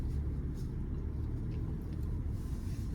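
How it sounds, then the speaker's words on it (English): A Honda HR-V engine rumbles low and steady close by as the car reverses slowly into a parking space, with no talking. "Now I'm going to reverse park."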